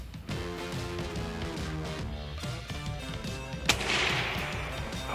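A single gunshot fired at an armadillo shell, a sharp loud crack partway through over steady background noise and a low hum, followed by a brief ringing tail, with no talking.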